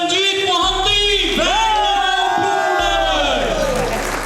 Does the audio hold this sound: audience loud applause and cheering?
yes